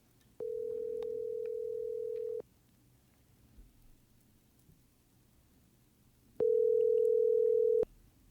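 Outgoing telephone ringback on a call: two long, steady single-pitch tones, the first about two seconds and the second about one and a half seconds, separated by a quiet gap, heard alone with no talking.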